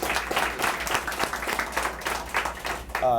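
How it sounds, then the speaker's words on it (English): Audience applause at an animal village expansion ribbon cutting ceremony, a steady wash of many hands clapping throughout with some crowd murmur underneath. "let's give Director Virgil Miller a round of applause"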